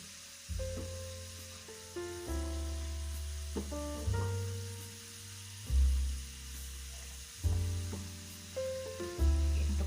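French fries deep-fry in hot oil, giving a steady, close sizzle for the whole stretch with occasional swells as they are stirred, and no voices.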